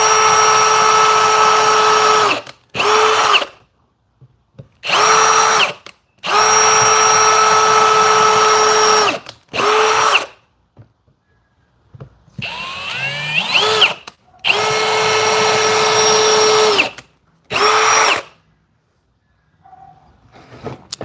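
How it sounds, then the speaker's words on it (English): A power drill pre-drills holes in a garage ceiling for bike hangers. It whines loud and close in repeated bursts of a second to a few seconds, with silent pauses between them and a brief scraping, rattling stretch partway through. "It's a pre-drill."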